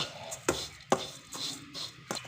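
Vermicelli being dry-roasted and stirred in a pan for kheer, heard as close, soft scraping and rustling strokes with a few sharper knocks of the spoon at an irregular rhythm.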